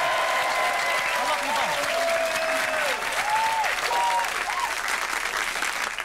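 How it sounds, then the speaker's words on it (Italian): Loud studio audience applause for a reality-show reunion episode, dense continuous clapping with scattered cheers and whoops rising above it, and people's voices audible through the noise. "Facciamo un bel applauso a Gary e Charlotte."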